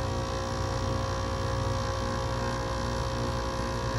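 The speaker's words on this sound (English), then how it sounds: "Our blower motor definitely is running" An HVAC blower motor runs with a dense, steady hum and whir, loud and constant throughout with no talk.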